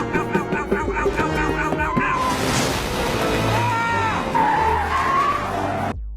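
An animated red race car skids and tears through a small town's main street, with squealing tires, engine roar and crashing clutter running loud and continuous.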